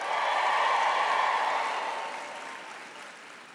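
Graduates at a university commencement ceremony break into loud cheering and clapping from a large crowd, strongest at the start and gradually fading over a few seconds.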